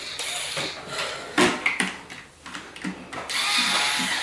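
Toilet seat screws are backed out with a ratcheting tool or driver, close and fairly loud, with quick clicking bursts and a scraping metal squeal over a few seconds.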